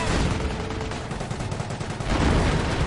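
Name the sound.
machine gun fire in video game Company of Heroes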